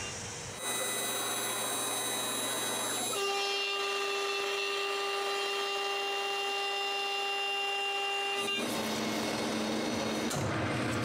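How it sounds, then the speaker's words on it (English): A CNC router cutting wooden pillars for a cremation urn in a woodshop, a steady whining spindle tone that shifts pitch as the cut changes, continuous and loud throughout with no talking. "go to the CNC to make the pillars"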